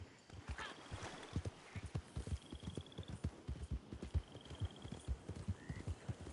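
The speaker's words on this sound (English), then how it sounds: "Horse riding just doesn't seem like it's for me today" Rhythmic clip-clop of a horse's hooves as it is ridden in a video game, steady thuds repeating at a trotting pace, with faint thin whistling tones drifting in the background.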